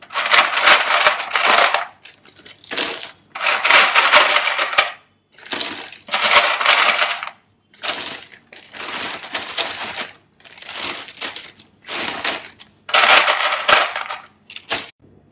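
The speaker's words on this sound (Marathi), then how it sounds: "याच्यामध्ये आपण हे आईस क्यूब आहे हे टाकून घ्यायचे आहे" Ice cubes are tipped into a polythene bag in repeated bursts, each a loud clattering rattle mixed with plastic crinkling, separated by short pauses of near silence, about eight rounds in all.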